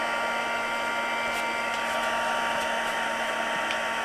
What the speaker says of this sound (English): Take our heat tool.